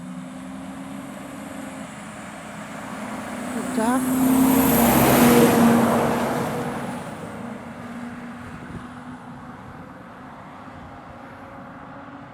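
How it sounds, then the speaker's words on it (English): A timber truck rolls past on the A75 road, its engine and tyre roar swelling as it nears, peaking loudly at close range, then fading away into steady background traffic noise. A voice briefly exclaims as it passes. "Time for a timber truck."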